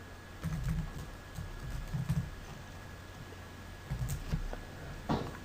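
Someone types on a computer keyboard, with short bursts of clacking keys separated by pauses and a louder tap near the end, close and fairly clear over a faint steady hum.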